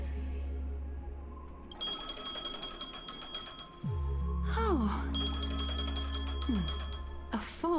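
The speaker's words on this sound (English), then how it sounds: "A phone." A phone ringing in Honkai: Star Rail: a bright electronic ringtone trills in two bursts over a low game drone, with sliding tones between them, and a brief spoken exclamation.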